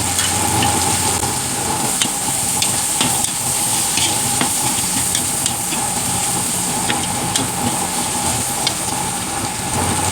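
Ginger frying with pork in a pan gives a steady, loud sizzle and hiss, with scattered scraping clicks from stirring throughout.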